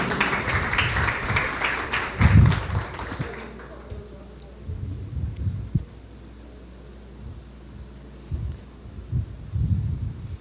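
An outdoor audience at a women's political caravan event in a public square applauds to welcome a speaker, a burst of clapping that fades after a few seconds into quieter crowd noise and thumps.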